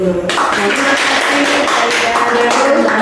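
Applause from an Indonesian workshop audience, a dense, steady patter of many hands clapping close by for about three seconds without a break.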